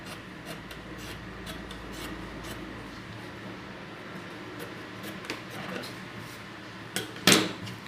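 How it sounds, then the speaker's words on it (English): Scissors trim fabric at the armhole of a puff sleeve, making soft close snipping and rubbing sounds that end in a sharper cut and rustle, all faint and with no voice over them. "But when cutting it off, we'll just open it up like this and then trim it off."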